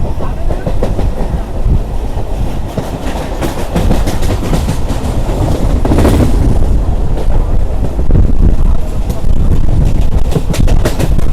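A Bandel–Katwa local train rumbles loudly along the tracks approaching Kamargachi station, with a continuous roar, rhythmic clatter of wheels and wind buffeting close by.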